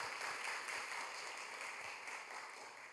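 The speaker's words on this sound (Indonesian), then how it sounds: "Kita kasih tepuk tangan yang meriah buat Tuhan kita." A church congregation applauds, a broad wash of clapping that slowly fades, fairly faint and with no talk over it.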